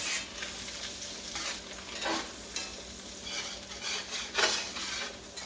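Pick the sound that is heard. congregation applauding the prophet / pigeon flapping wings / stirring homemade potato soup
stirring homemade potato soup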